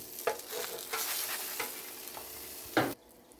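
A breakfast dish fries in a pan after being flipped to brown the other side, a steady close sizzle marked by several scraping stirs and a louder clatter near the end before it cuts off.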